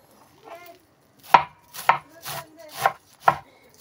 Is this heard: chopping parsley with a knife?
yes